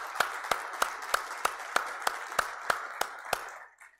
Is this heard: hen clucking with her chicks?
no